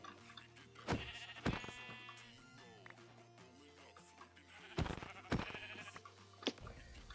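Minecraft sheep bleat in two clusters of several short, wavering calls, heard over low game background sounds with no talking.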